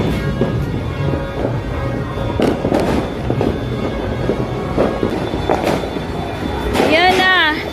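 New Year fireworks and firecrackers pop and bang repeatedly outside in the rain, some sharp and close, others distant, while people talk nearby and a whistling rocket rises near the end.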